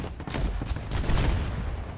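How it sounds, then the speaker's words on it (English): A loud explosion blast in the first-person shooter video game Battlefield 2042, a dense crackling burst with rumbling debris that continues for about two seconds. "Ooh, wow, explosion."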